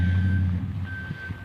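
Steady reversing beeps from a truck backing up nearby, a single high tone repeating over a loud low engine rumble, with no talking.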